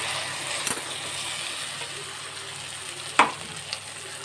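Onion paste and spices for a paneer curry sizzle softly in a pan, with a couple of brief scraping clinks from stirring.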